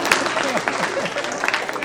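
Girls in the audience at a cultural evening of poetry clap loudly, a brief burst of crowd applause with a voice or cheer mixed in.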